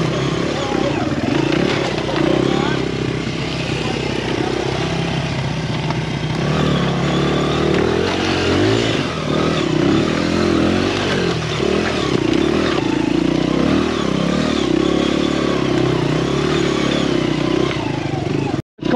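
A Honda XR100 enduro motorcycle labours up a hill on a trail, its engine droning steadily and close with rattling clatter, revs shifting slightly as it climbs.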